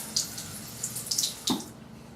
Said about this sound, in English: Just gonna put a little water on my brush.